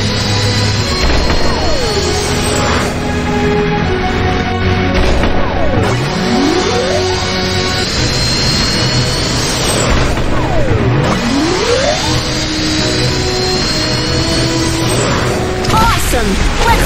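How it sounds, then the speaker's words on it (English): A cartoon rocket blasts off and accelerates in a kids' space-journey cartoon, with a continuous loud roaring rush crossed by repeated rising and falling whooshing sweeps throughout. "Press the button to accelerate the rocket."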